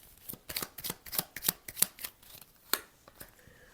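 Playing cards riffled and snapped down as they are shuffled and drawn for a tarot-style reading, a quick run of crisp, close flicks and slaps with a few sharper taps, no voice over them.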